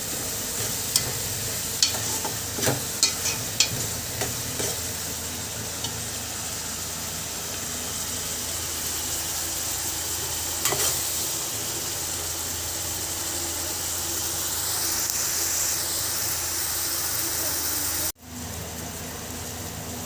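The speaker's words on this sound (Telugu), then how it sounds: "ఉల్లిపాయలు బాగా మగ్గాలండి." Onions frying in a pan for egg curry, a steady close sizzle with scraping stir strokes that come at irregular intervals and fade near the end, no voices.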